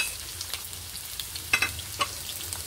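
Sliced onions caramelizing in a frying pan, a soft continuous sizzle with a few light taps and scrapes of a utensil against the pan.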